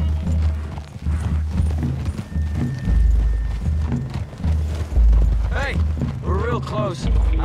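Horse hooves clip-clopping through trees in the video game Red Dead Redemption 2, a steady trot under a dense game mix with rumbling ambience, creaking tack and birdlike chirps, loud throughout.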